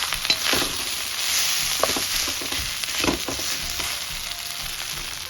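Curry prawns with rice are stirred in a hot pan, a steady sizzle of frying with intermittent scraping and clinking of the utensil against the pan, close and moderately loud, no talking.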